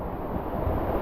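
A steady broadband roar of rushing water at Kadamagundi waterfall in Karnataka, dense and continuous with wind-like hiss, no voices.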